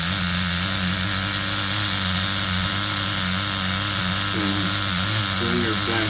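A nitro engine in an HPI RS4 RC F150 pickup runs continuously after an idle adjustment, giving a steady buzzing drone with a few small pitch wavers near the end, loud and close.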